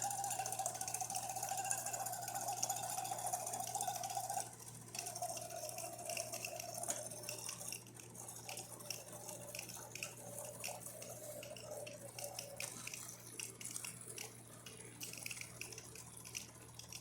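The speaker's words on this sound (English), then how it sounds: "So let's test the hot water." A Jura E6 coffee machine dispenses hot water, a steady watery pour with a tonal pump hum and faint mechanical ticking running evenly throughout.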